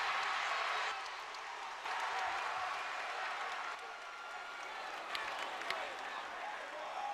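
A college basketball arena crowd applauds and cheers at a Michigan versus Michigan State game, a dense wash of clapping that dips and swells, with a few sharper claps near the end.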